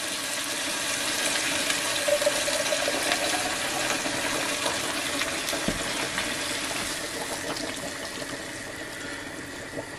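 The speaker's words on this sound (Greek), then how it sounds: "Νερό μέχρι να καλύψει το κρέας." Water is poured steadily into a cooking pot over about two kilograms of meat and tomato juice, making a continuous close rushing splash for the whole stretch with no talking.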